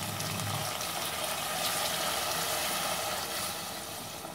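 Water being poured into mutton curry in a cooking pan, a steady close gush and splash of liquid lasting the whole moment with no talk over it.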